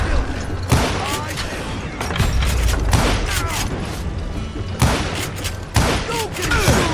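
Gunfire in the first-person shooter game Singularity: loud bursts of shots and heavy thuds recur across the stretch, mixed with game voices and mechanical clanks.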